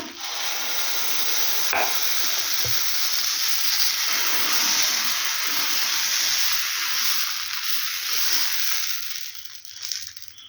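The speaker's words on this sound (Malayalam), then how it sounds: "നമുക്ക് ദോശമാവ് ഈ ദോശക്കല്ലിലേക്ക് അങ്ങ് ഒഴിച്ചു കൊടുക്കാം" Dosa batter hits a hot dosa griddle and sizzles with a loud, steady hiss that holds for about ten seconds before easing off near the end.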